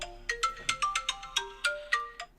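A phone ringtone plays a quick series of bright plucked electronic notes, about ten tones in a rhythmic melodic pattern, loud and clear with no talk.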